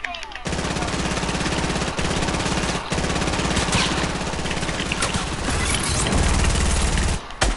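Sustained rapid machine-gun fire in a video game, dense and loud for several seconds with only brief breaks, with talking voices partly buried under the shots.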